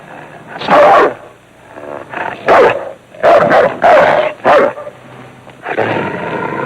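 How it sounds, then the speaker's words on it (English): A dog barks repeatedly in loud, separate bursts, several sharp woofs spaced irregularly, ending with a drawn-out growling bark. "It's a dog."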